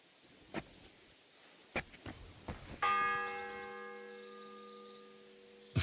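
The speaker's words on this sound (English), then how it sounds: "The fourth bell." A church bell in the Kingdom Come Deliverance 2 video game strikes once with a bright, ringing tone that fades slowly, following a few scattered knocks and footfall-like taps.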